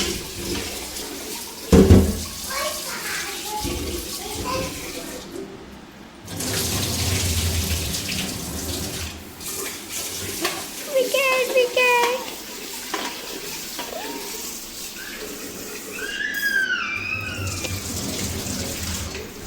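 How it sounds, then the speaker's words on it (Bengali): Hands swishing and swirling rice in a pot of water, uneven sloshing and splashing with a sharp knock near the start, a brief running tap midway and a voice speaking in between. "হয়ে গেল আমার চাল ধোয়া"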